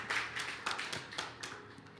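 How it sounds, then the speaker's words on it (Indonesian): A church congregation claps in applause, a burst of fairly quiet hand-clapping that trails off over about two seconds, with no talking. "Beri tepuk tangan yang meriah bagi Allah kita."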